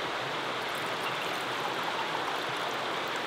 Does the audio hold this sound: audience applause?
no